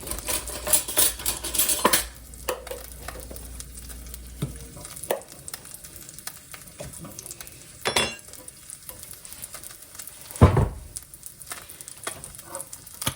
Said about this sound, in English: in this same pan, I'm going to add a couple tablespoons of brown sugar